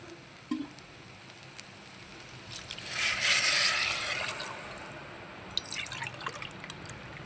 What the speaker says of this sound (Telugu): గ్లాసున్నర వాటర్ పోస్తున్నాను.